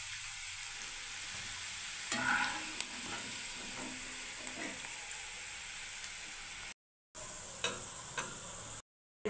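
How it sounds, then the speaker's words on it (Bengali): Peanuts fry in a pan of hot oil for a Hyderabadi-style dish, with a continuous, fairly quiet sizzle broken by a few light stirring scrapes and taps, and no voices. "বাদামটাকে আমি এর মধ্যে ভেজে নিচ্ছি বন্ধুরা"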